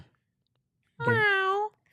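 A voice imitates a cat with a single drawn-out meow lasting under a second, clear and close after a moment of silence.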